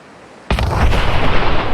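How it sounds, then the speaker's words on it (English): Truck blowing up in the Fallout 4 VR game: a near silent start broken by one sudden loud blast, followed by a sustained rumbling roar of fire and debris. "Oh, and then the truck explodes."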